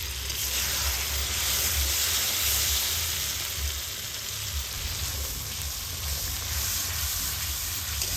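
Spice paste of ground spices, red chili powder and a little turmeric with a splash of water sizzles steadily in a hot pan for a fish curry, a continuous bright frying hiss with no break or talk.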